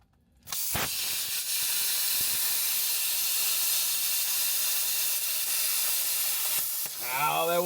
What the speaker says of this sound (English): now that I got that as close as I can with the plasma